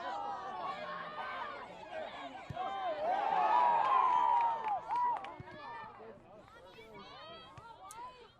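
Spectators at a women's college soccer match, West Texas A&M against Angelo State, sending up a swelling crowd roar and excited chatter that peaks midway and then subsides, with voices mixed through the noise.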